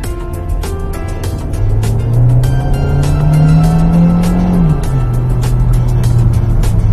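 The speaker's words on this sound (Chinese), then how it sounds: "好，我们简单来试一下对这台车的加速吧" A seventh-generation Hyundai Elantra in Eco mode accelerates from inside the cabin, its engine note climbing steadily, dipping at a gear change, then rising again, loud and close.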